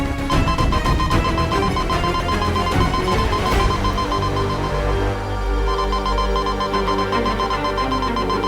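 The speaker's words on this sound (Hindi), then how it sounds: "ये तो वीर लोग का सिक्योरिटी अलार्म है" Electronic security alarm ringing insistently in a fantasy superhero drama, a loud, steady tonal bell-like tone that persists throughout with repeated pulsing, alone with no voices.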